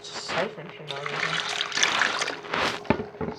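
A new clay toilet flushes and siphons, a steady broadband rush and gurgle of draining water lasting several seconds at close range, with a person's voice heard briefly over it.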